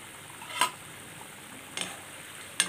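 A spoon stirs egg curry simmering in a pan: three sharp, spaced clinks of metal against the pan over a soft, quiet bubbling sizzle.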